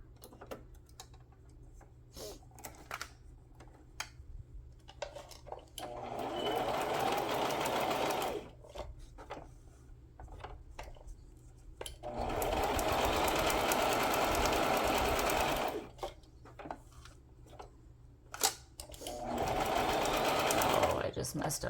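A sewing machine stitches fabric scraps into small embellishment clusters in three steady, close bursts of rapid needle chatter, with quieter pauses of handling sounds and faint room noise between them.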